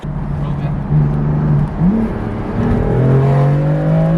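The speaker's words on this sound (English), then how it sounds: "you revved it out until like 7. Now I felt the boost finally." A BMW car engine revs hard up close, its pitch holding steady, then climbing in a few rising surges over a constant loud rumble.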